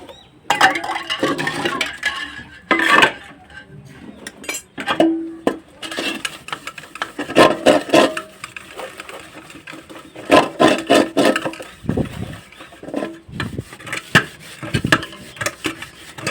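Metal pots and pans scrubbed by hand with ash, a little sprinkled water and soap in a village kitchen, giving repeated clinks, scrapes and knocks of metal vessels at close range, with no talk.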